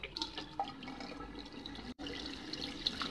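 Tap water runs steadily and splashes over something in a sink, a continuous close wash with a brief cut partway through.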